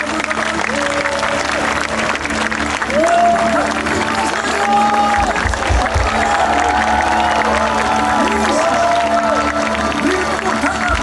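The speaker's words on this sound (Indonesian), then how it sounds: "Beri tepuk tangan" Sustained congregational applause fills a revival service in a sports hall, steady and dense throughout, with a sung or sustained tone drifting over it and scattered voices mixed in.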